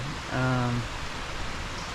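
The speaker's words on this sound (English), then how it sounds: "it is raining" Rain falls steadily during a fly fishing trip, a soft continuous hiss of drops on water and leaves, briefly overlaid by a short spoken voice near the start.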